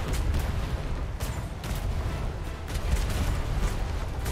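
Ship cannons booming in a naval battle game, heavy low thuds of repeated broadside fire rolling one after another at a steady loud level.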